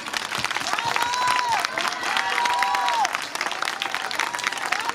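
An audience at a student creative-centre performance in Poti claps steadily and warmly throughout, with some cheering and voices rising over the sustained applause.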